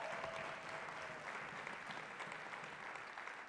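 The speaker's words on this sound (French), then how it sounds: "Est-ce que vous pouvez les applaudir?" A church congregation applauds new school students at the start of the school year, steady sustained clapping throughout without talk.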